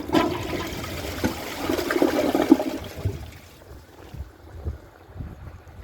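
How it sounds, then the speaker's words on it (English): A household toilet's second flush: a close rushing whoosh of water that swells for a few seconds, then fades into a quieter gurgling drain and refill trickle, with no talk. "Let's give it a second flush."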